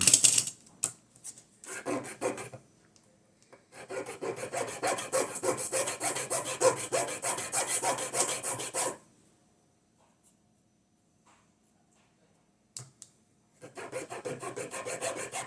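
Overlapping polystyrene is trimmed from the rotors of a GI Joe Tomahawk model helicopter. Close, dry rasping strokes come in short bursts, then a long continuous run, a silent pause and a few more cuts.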